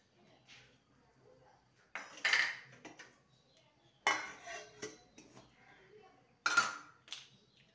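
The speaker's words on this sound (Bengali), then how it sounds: "কড়াইতে জল দিয়ে দিয়েছি, টিফিন কৌটোটা দিয়ে দিলাম।" A steel tiffin box of spiced cauliflower mixture is set into a wok of water for steaming, giving a few sharp metallic clinks and knocks spaced apart against quiet kitchen background.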